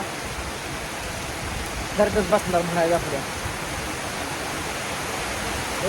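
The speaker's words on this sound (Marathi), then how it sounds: "लय मोठा पाऊस सगळ्यात मोठा पाऊस आला आहे" Heavy rain pours steadily at a building construction site, a dense, even wash of noise throughout, with a person speaking briefly over it partway through.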